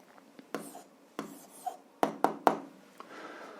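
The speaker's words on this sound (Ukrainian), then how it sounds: "Ну що ж, записуємо відповідь. Пишемо відповідь." A pen writes an answer on paper in short, close scratching strokes and taps, quiet and irregular over a few seconds, with no talk.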